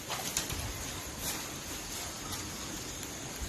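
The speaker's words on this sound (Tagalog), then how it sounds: "May malaking ibon." A large bird calls in a mountain forest with a few soft, cooing notes that sit low and faint under a steady wash of outdoor hiss.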